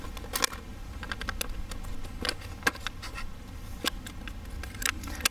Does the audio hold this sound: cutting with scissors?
yes